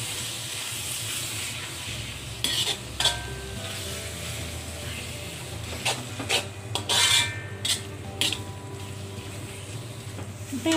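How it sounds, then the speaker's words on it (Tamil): Beaten egg hits a hot pan of cooked vegetables and is stirred in, a low steady sizzle with bursts of scraping and rasping from the spatula, close and moderately loud. "முட்டையை ஊற்றி நல்லா கிளறி விடுங்க"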